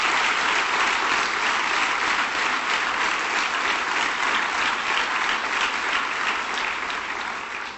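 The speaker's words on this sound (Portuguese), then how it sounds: "Salva de palmas, por favor." A television studio audience gives a sustained round of applause, thick, even clapping filling the whole stretch and tapering slightly at the end, with almost no talk.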